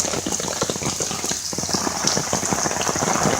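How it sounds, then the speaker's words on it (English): Heavy rain from a hurricane rain band pours down nearby as a dense, continuous hiss of drops and splashing water, steady and loud throughout with no voices. "if we keep getting these kind of rain bands"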